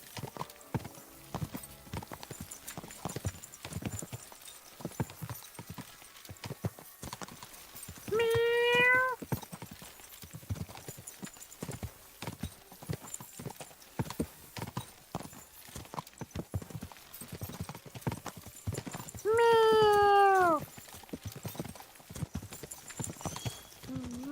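Steady rhythmic hoofbeats of a horse trotting in a video game clip-clop throughout, with two bright whinny-like calls rising above them.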